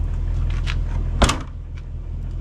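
A car door thuds shut once with a sharp, solid impact over a steady low engine or cabin hum, heard from inside at close range.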